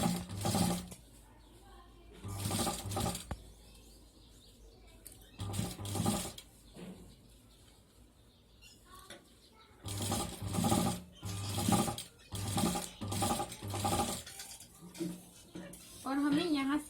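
A sewing machine stitches a pocket onto fabric in repeated close bursts of fast, rattling needle strokes separated by pauses, with someone talking softly between and over the runs.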